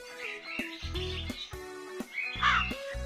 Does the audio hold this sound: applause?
no